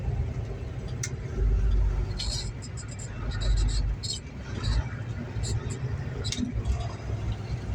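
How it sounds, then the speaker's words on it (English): A truck's diesel engine rumbles steadily at close range while the driver slows toward a stop sign with the Jake brake, someone talking over the low drone throughout. "I'm gonna Jake brake to that stop sign"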